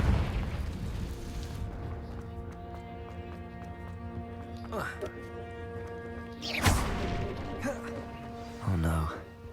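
A Confringo blasting spell bursts in Hogwarts Legacy: a sharp, loud explosion crack mid-scene, followed by a shorter pop, over steady game music and ambience.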